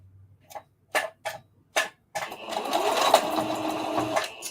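A sewing machine stitching a circle dress gives a few short isolated bursts of stitching, then runs steadily for a couple of seconds, close and fairly quiet, with no talking.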